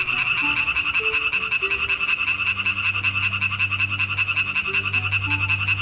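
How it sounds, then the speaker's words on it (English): Tree frog calling at an expedition stop in the Caucasus, a dense, steady rapid chorus of croaks running continuously and loud, with a low droning hum underneath throughout. "At the next stop, we hear a tree frog again"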